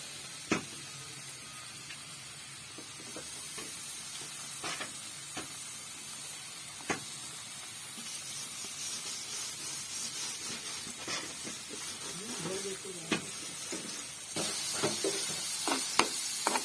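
Chopped onion fries in about a tablespoon of hot ghee with a steady, soft sizzle and hiss, broken by occasional sharp pops and light stirring clicks, close but fairly quiet throughout.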